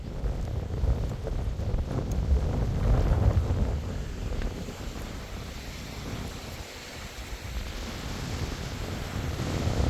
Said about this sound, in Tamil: காற்றை பாருங்கள் எப்படி இருக்குன்னு